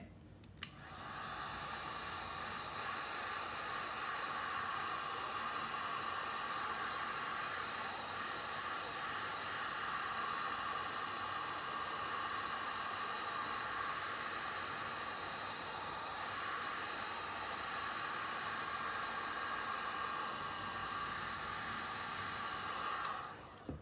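A heat gun blowing hot air to heat and push resin around, a steady loud whooshing roar that runs unbroken for over twenty seconds after a brief click at the start.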